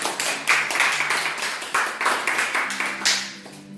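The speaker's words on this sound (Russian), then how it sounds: "Аплодисменты." An audience at a children's cat-drawing contest in a St. Petersburg hotel applauds, a small group's clapping in uneven waves of sharp hand claps heard fairly close, with faint voices underneath.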